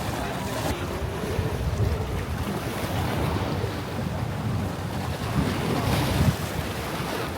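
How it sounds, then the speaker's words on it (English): Waves wash continuously onto the beach at Cala Salida, a broad steady surf roar mixed with gusty wind buffeting the microphone, with no voices. "This is actually the first time I've been to this beach, Cala Salida, and it's actually pretty good."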